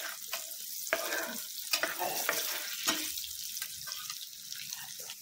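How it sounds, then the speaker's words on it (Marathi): Curry leaves sautéing in hot oil for thin poha chivda, a steady close sizzle with scraping stirs and clinks of a spoon against the pan, fairly quiet and without talk. "कढीपत्ता पण थोडासा क्रिस्पी करायचा आहे आपल्याला."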